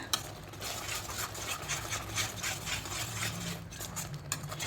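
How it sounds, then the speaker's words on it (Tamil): A spoon stirs curry-leaf curry in a pot, giving soft continuous scraping and shuffling with occasional light clinks, quiet and close. "இதை கட்டிகள் இல்லாமல் நல்லா கிண்டி விட்ருங்க."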